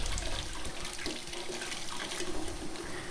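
Steady running tap water splashing over stainless steel pet fountain parts in a sink, a continuous broadband rush with no talking.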